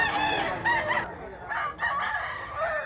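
A Gilmore hatch gamecock stag crowing at a farm in Mantalungon, Cebu: loud, close, harmonic crows repeated a few times in quick succession, with only brief pauses between them.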